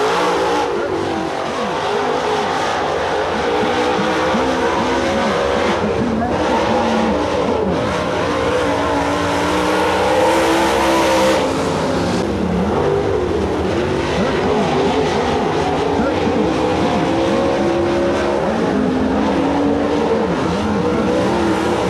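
Dirt-track race cars roar around North Georgia Speedway during a Tennessee Thunder Dirt Car Series event, engines loud and continuous with rising and falling revs as the pack circles.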